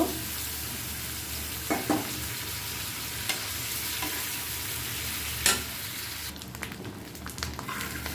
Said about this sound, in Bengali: আমি এখন ডিমগুলোকে একটু ভেজে নিব